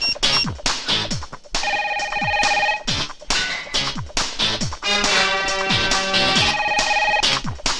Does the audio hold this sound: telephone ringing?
yes